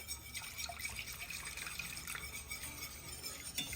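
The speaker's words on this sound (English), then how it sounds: "Now I can go ahead and add a little bit more of our chicken broth." Chicken broth poured into a cooking pot that already holds water and flour, a steady close trickling and splashing stream of liquid running continuously without any voices.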